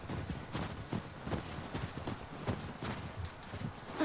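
Horses walk with steady, evenly spaced hoof clops in The Last of Us Part II, a moderately close rhythmic plodding over a soft ambient game background.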